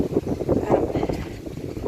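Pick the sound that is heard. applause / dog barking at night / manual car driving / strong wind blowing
strong wind blowing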